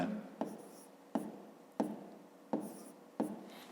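Chalk or marker strokes on a classroom board during a fifth-grade maths lesson, five quick scratching strokes at an even rhythm, close and fairly quiet, with no speech.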